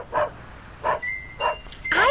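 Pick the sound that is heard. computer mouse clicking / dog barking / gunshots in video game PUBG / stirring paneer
dog barking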